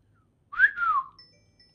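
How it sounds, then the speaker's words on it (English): A single short whistle at a phone, rising then gliding down, clear and close, lasting under a second against near silence. "give it a quick whistle"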